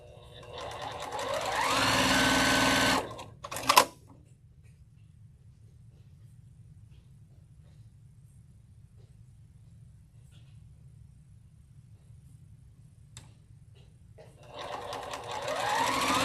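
A sewing machine stitches fabric in a loud, steady whir for about three seconds, ending with a short burst of clatter. A long quiet stretch with only low hum follows before the machine starts up again near the end.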